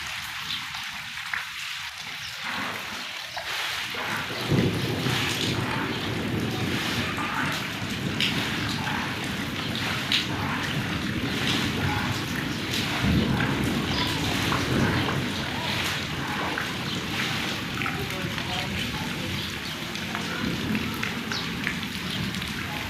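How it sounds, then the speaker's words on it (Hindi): Heavy rain pours down on a flooded village yard, where the cooking griddle and clay stove sit submerged; a dense, steady roar of rainfall begins after a few quieter seconds and continues unbroken. "अल्लाह से इतनी माफ़ी मांगने के बावजूद बारिशें रुकती नहीं है"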